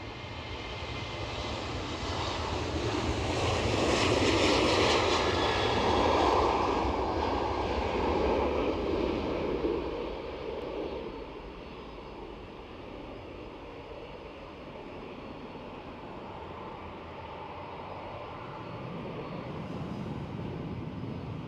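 A Loganair aircraft departs Edinburgh Airport, its engines building to a broad roar that peaks and then fades into a steady distant drone.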